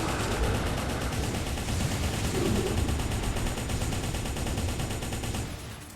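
Rapid continuous gunfire from mech weapons in the M.A.S.S Builder game, a dense rattling stream of shots holding loud for several seconds before easing off at the end, with no talk over it.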